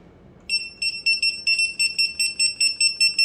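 A Honeywell 1950GSR handheld barcode scanner gives a rapid run of bright electronic beeps as it reads codes successfully, about a dozen short tones in steady rhythm, close and clear, with no talking.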